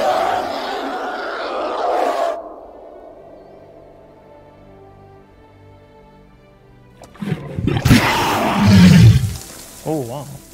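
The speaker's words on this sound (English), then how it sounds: "I'm guessing that's a roar." A dragon in the game Day of Dragons lets out a loud, deep roar that fades into a long rumbling tail, followed by a second harsh, growling roar.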